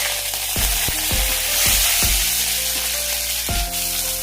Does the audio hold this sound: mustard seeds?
yes